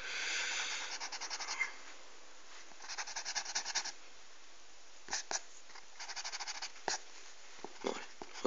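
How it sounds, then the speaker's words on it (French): An eraser rubs across paper on a pencil drawing of a 3D tower, in short scratchy bursts with pauses between strokes, close and fairly quiet. "je vais gommer un petit peu parce que c'est pas vraiment droit."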